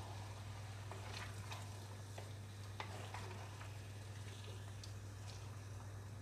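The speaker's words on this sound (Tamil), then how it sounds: "இதை ஒரு வாட்டி கிளறி விட்டுடலாம்." Chicken curry in a clay pot is stirred over steady low sizzling, with soft scraping strokes coming and going close by and no voices.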